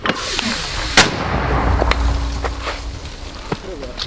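A single sharp blast of a mortar firing near Bakhmut, loud and close, followed by a few fainter distant thumps with voices nearby.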